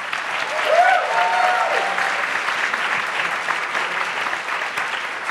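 Sustained audience applause at a MoMA film Q&A welcoming Josh and Benny Safdie, a dense, even wash of clapping from a crowd filling the room throughout, with a voice briefly audible over it.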